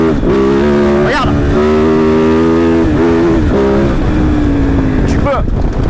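A Kove Dakar rally motorcycle accelerating out of a drift, its loud close engine roaring with rising and falling revs throughout, wind buffeting heavily over it.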